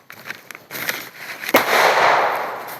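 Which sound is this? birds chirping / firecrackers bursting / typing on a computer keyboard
firecrackers bursting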